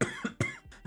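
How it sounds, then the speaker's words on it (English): Three or four harsh, close coughs in quick irregular succession from a person with a lingering cough, loud and dry, with no talk between them. "I dream of the day where my cough will finally go away"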